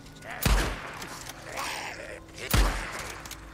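Gunfire in the Days Gone video game on PC: two sharp, loud shot bursts about two seconds apart, each with a deep thump and a bright crack, over a steady game ambience.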